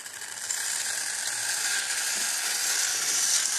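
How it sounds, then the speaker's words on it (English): A Marklin 3099 model locomotive's 5-pole motor whirs with a steady, high-pitched buzzing hum, close and continuous throughout with no talking. "But its motor is a bit noisy."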